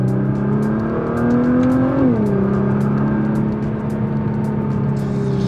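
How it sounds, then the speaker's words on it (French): Nissan GT-R Track Edition V6 engine heard from inside the cabin, a loud steady drone that climbs under acceleration, dips at a gear change and then pulls on, with no talking. "Sympa, ça fait bien chanter le V6."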